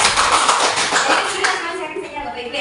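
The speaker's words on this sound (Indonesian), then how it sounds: "Aplaus dulu" A classroom of children claps together, a loud, close burst of dense, crackling applause that stays strong and then eases slightly toward the end.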